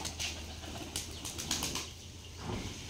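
Pigeons at a tumbler pigeon farm flap their wings in quick, soft rustling bursts, several in a row, faint and close, with no voices.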